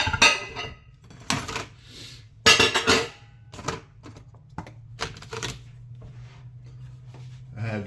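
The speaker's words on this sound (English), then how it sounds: "I have to put up the dishes from the other day." Dishes clatter as they are put away, with sharp clinks and clanks of plates and cutlery arriving in irregular bursts over a low steady hum, fairly close and with no talk over them.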